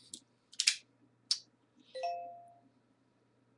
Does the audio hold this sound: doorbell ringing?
yes